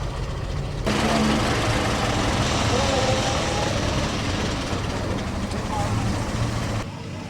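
A 1913 Talbot 25 horsepower car with a 4.5-litre engine idles in a steady, continuous rumble with a low hum, while voices murmur beneath it.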